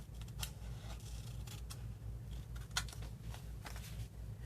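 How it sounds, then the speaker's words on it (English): Scissors snipping around a paper embellishment cut from a Dollar Tree calendar, a faint, close series of short irregular crisp snips over a low hum, with no talk. "And then just finish cutting it out."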